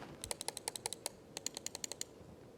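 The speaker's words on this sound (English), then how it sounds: "here's the sound test of the clicking." Button clicks of a Keychron M3 wireless mouse: a couple of dozen crisp, close clicks in two quick bursts separated by a short pause, with no one speaking.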